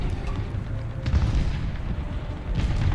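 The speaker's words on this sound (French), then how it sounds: "Donc là ça y va en artillerie, hein" Steady rumbling barrage of artillery shells bursting in War Thunder, a tank battle game, dense and continuous with heavy low booms throughout.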